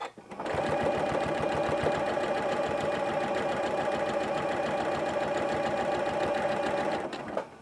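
A Janome CM17 sewing machine fitted with an HP 2 walking foot stitches in one continuous, even run lasting several seconds, loud and close, with a steady rapid mechanical whir and needle clatter before stopping abruptly.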